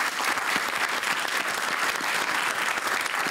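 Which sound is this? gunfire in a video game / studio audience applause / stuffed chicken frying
studio audience applause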